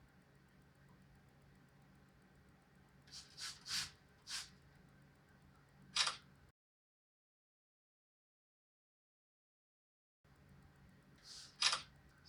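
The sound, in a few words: camera shutter taking pictures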